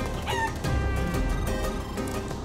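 Chickens cluck and crow steadily in the video game Guacamelee! 2, a busy layer of bird calls over a constant game backdrop with no talking.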